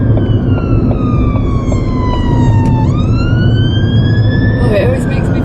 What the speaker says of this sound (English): it always makes me feel really emotional when ambulances go